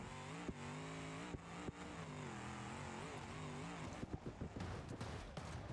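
A tractor engine in BeamNG Drive revs steadily with a droning harmonic growl that rises and falls slightly, broken by a few sharp knocks and clatters near the end.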